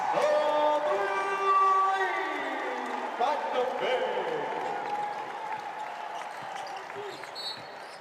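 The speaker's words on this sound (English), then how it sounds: "The crowd loves it." A college basketball arena crowd at a Charleston vs. West Virginia exhibition game cheers in a steady roar under a commentator's play-by-play talk.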